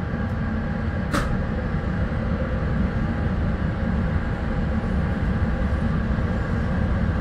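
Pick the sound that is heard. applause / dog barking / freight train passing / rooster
freight train passing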